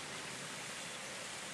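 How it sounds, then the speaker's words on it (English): Backyard waterfall at a house, lit at night, pouring in a steady broadband rush of falling water, continuous and fairly quiet with no other sounds. "Beautiful waterfall."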